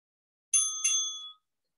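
A bright two-stroke ding-ding of a bell marks the end of a kettlebell workout round, two quick metallic strikes ringing briefly into silence.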